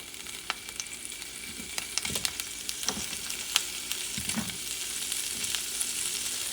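Salchichon sausage frying in a pan with a little oil, a steady close sizzle with scattered crackles and pops throughout, no voices.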